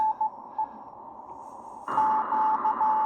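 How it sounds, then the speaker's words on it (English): Steady hiss of static on a Drake R4A receiver that suddenly grows louder and wider as the bandwidth opens, with faint Morse-like tone pips beeping through the noise. "Lots of noise, more signals"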